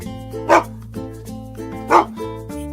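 A dog barks twice, a loud close bark at each end of a short span, with quieter whines between and a low steady hum underneath.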